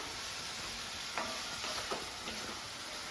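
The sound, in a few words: sautéing and stirring prawn roast in pan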